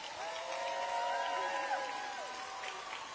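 A school assembly crowd at Calvin Coolidge High School applauds and cheers for the varsity cheerleaders and dance team, with steady clapping and voices held at an even, fairly loud level throughout.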